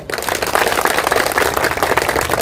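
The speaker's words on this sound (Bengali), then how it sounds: "আমি তার জন্য চাইব সবাই একবার জোরে হাততালি দেওয়ার জন্য" Audience applause for a previous speaker at a BJP mandal gathering in Karamcharra, a dense, steady wash of many hands clapping loudly throughout with no pauses.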